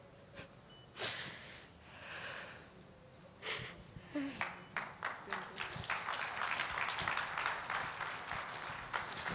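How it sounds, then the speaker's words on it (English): Applause at a memorial service of songs, with scattered claps early on that grow into sustained clapping from a crowd in the second half, amid room noise and a few voices. "You can do a lot better than that with the applause."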